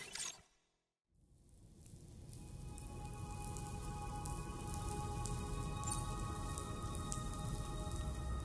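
Steady rain pours down in Death Stranding 2, a dense wash of falling drops that swells in after a brief silent gap and keeps up loud and even, with scattered sharper drop hits on top.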